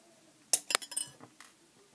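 Wire cutters snip metal eye pins to length for apple-shaped earrings, giving a few sharp, close metallic clicks and clinks in quick succession in an otherwise quiet room.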